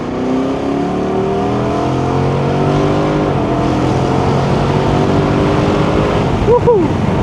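An SRT car's engine revving hard from the driver's seat, a loud continuous roar with rising harmonic sweeps as it accelerates, then a quick warbling blip of revs near the end.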